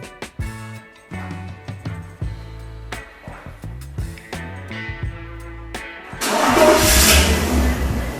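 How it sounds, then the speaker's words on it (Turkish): A 2004 BMW E46 is started by a remote phone command: a series of beeps and chimes first, then the engine cranks and catches into a loud, close idle at the end. "aracımız çalıştı"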